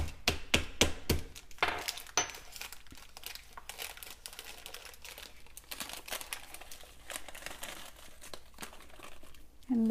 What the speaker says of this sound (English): I'm just going to use a pestle from the mortar and pestle and just pound it down.